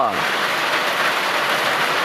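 Outdoor rain falling steadily in the Thai countryside, a dense, even hiss that fills the whole stretch without letting up.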